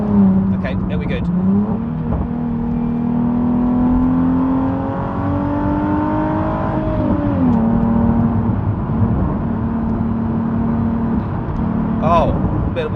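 A Nissan 370Z Nismo on Continental Sport Contact 6 tyres is driven into a corner on a downhill road, its engine droning loudly from the cabin, revs rising and then dropping as it brakes and settles, with someone talking over it.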